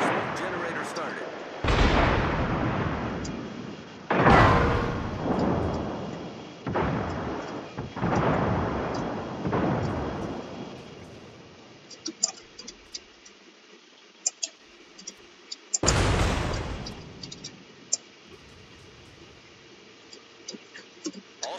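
Heavy warship artillery salvos in World of Warships, five loud booming broadsides in quick succession, then a quieter stretch of faint clicks before one more big salvo and rumbling decay.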